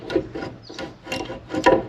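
A worn spreader bearing with its dust seal gone, shaken by hand: a series of short, dry grinding rasps repeating in quick bursts, close and fairly loud.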